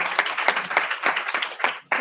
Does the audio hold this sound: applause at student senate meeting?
yes